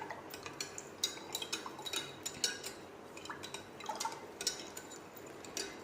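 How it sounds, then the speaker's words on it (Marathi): A spoon stirs pineapple sharbat in a glass or pot to dissolve the sugar, producing quick light clinks and taps against the container over a soft liquid swirl, with no voices. "तर अशा प्रकारे आपण हे छान असं हलवून घेणार आहोत"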